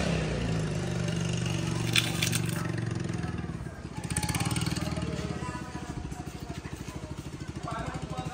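A motor boat engine chugs steadily with a low, throbbing drone, close by, with some voices and scraping noises mixed in.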